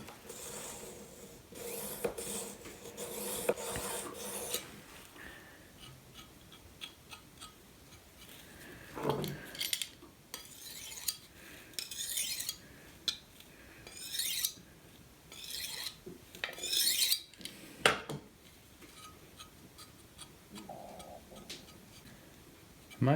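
A knife is drawn through the fine ceramic slot of a handheld sharpener while preparing to process a turkey: repeated close, raspy scraping strokes in uneven bursts, with brief quiet gaps between passes.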